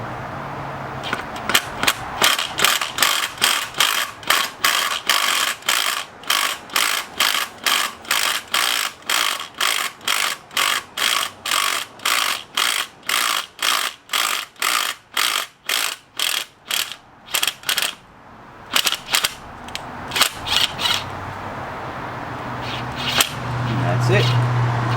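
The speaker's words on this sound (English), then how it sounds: "I'm going to try to drill this hole straight as possible." A drill boring a lubricated hole into a stripped-thread side engine mount on an Acura TL, heard up close as a fast, steady train of sharp mechanical clicks and bursts that stops near the end, followed by a little faint background noise.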